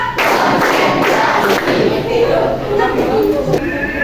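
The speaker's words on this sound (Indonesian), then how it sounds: "Tepuk 1. Tepuk 2. Tepuk 3." A classroom group claps hands rhythmically in a counting game, dense thuds and claps running steadily and loud beneath overlapping voices.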